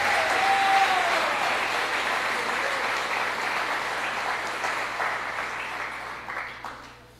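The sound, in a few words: audience applause in church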